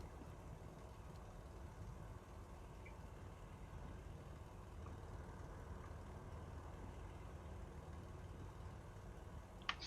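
Steady aircraft engine drone from a plane in a War Thunder simulator battle, a low continuous rumble holding evenly throughout with no other distinct sounds.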